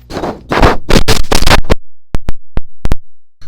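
Voice imitating a normal human heartbeat: a fast run of thumping syllables at first, then a series of short, sharp, evenly spaced beats, loud and close, with no other sound.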